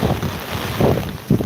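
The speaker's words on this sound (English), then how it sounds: "It's windy, man." Strong wind from Typhoon Hinnamnor in Ulsan, South Korea, buffets the microphone on an exposed bridge, a loud continuous roar with heavy gusting rumble.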